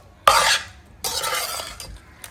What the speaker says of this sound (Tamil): அந்த பவுடர் வந்து இதில் சேர்த்து அப்படியே மிக்ஸ் பண்ணிடலாம்.